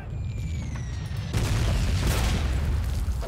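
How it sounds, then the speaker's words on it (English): Grenades exploding in the World War II shooter Call of Duty, a loud blast suddenly cutting through a thin whistling tone and giving way to a sustained roaring rumble. "Okay, grenades."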